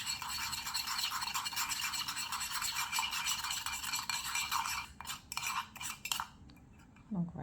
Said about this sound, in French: Vous mélangez bien l'œuf avec le sucre.